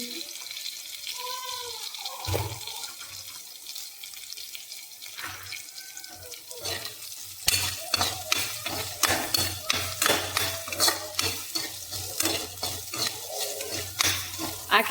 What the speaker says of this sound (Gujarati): એ કટ કરીને નાખી દીધું છે અને પાંચ મિનિટ તેલમાં એને ચડવા દીધું છે